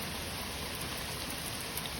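Steady rain pours down in a garden during a British summer, a dense even hiss of drops striking surfaces, continuous and fairly close, with no voices.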